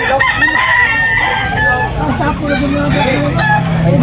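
Roosters crowing repeatedly amid a busy chicken market in Tabunok, Talisay, Cebu, with constant crowd chatter and clucking filling the background at close, loud level.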